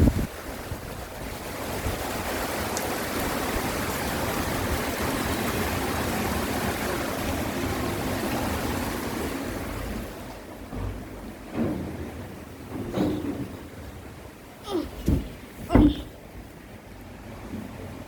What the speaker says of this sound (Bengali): যেভাবে বাতাস বৃষ্টি নামতেছে